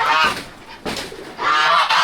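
Loud, close geese honking in overlapping nasal calls, several birds at once with barely a pause.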